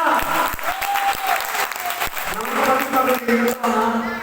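A church congregation at a Friday healing covenant service applauds, with dense, loud clapping running throughout while someone talks over it in the foreground.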